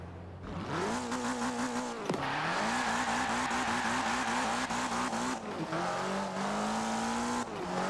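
Opel Astra in Forza Horizon 4 spinning its wheels in first gear, a loud engine screaming at high revs with rising and falling pitch, gear-shift dips and tire squeal throughout.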